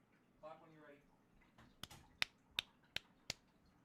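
A series of sharp hand claps used as a sync marker during an audio recording session, about six crisp, isolated claps spaced roughly evenly, preceded by brief faint speech in a quiet room.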